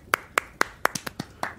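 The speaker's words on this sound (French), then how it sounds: "Allez, les enfants, on applaudit" Hand claps close to the mic, about eight sharp, separate claps in a slightly uneven rhythm, with no voices.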